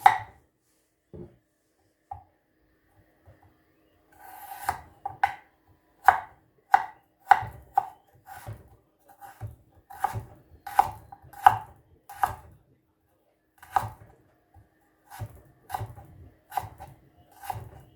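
A knife chops vegetables such as cucumber and carrot on a board in sharp, close strikes, starting sparse and quickening into steady rhythmic runs with short pauses between.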